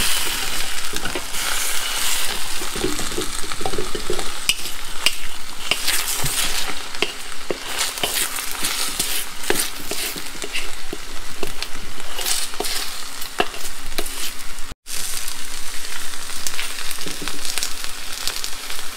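Five eggs sizzle steadily in a hot wok for pad thai as they are swished and stirred, with dense, continuous frying crackle and scraping throughout, loud and close, with no talking.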